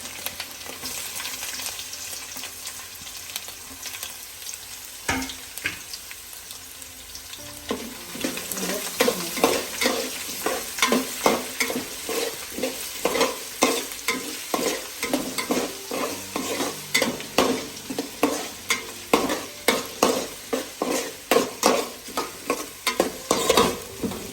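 About 200 g of cleaned garlic and 150 g of ginger frying in oil for an anchovy fish pickle: a continuous crackling sizzle, with a quieter start and then regular scraping stirs, close and steady, no voices.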